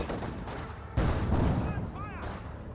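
MG-34 machine gun fire in Company of Heroes 2 suppressing a conscript squad, distant bursts with booming impacts under a layer of battle ambience and a talking voice.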